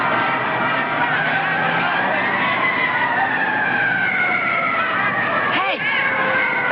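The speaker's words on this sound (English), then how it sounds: "Hey, that's a fire engine." A fire engine siren wails with a smooth rising and falling tone, steady and fairly loud throughout, with traffic noise beneath and a sharp sweeping warble near the end.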